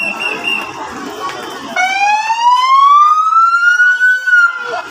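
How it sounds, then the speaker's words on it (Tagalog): An ambulance siren on a street in Parañaque sounds loud and close, its rising wail sweeping upward and holding over the faint hum of traffic. "At yan po ang ambulansya"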